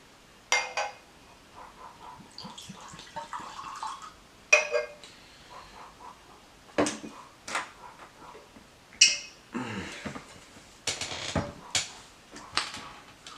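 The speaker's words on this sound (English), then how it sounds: "Let's pour up here." Elijah Craig Small Batch bourbon is poured into a glass, with scattered clinks of glass and liquid splashes spread over several seconds, fairly close and clear, with no talking.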